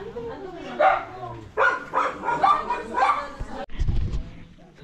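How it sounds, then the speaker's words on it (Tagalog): Several dogs bark in short bursts near a cave trail in Sagada, Philippines, rising over people talking, with a whimper and yips mixed in. "Dami aso."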